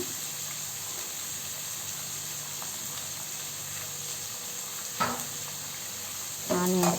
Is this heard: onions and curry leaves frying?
yes